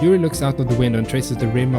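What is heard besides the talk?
No everyday noise stands out behind the speech.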